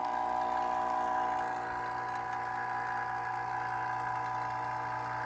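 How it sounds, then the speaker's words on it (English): An Orion Motor Tech vacuum pump hums steadily at close range, a constant droning tone with a low mechanical buzz, running on without pause. "we're going to hook it up to this new Orion pump. Make sure you have the cap on this one and turn it on"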